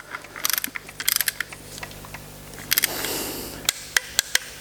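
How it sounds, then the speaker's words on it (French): Ratcheting clicks from a torque wrench tightening a bolt on the timing chain of a BMW X1, sharp close bursts of rapid clicks in several spaced groups, ending with a few isolated clicks. "je le fais à la clé dynamo"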